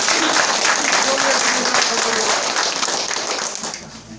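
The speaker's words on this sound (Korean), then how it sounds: "큰 박수 부탁드립니다." An audience at a Korean village community meeting claps loudly and steadily, the applause fading toward the end.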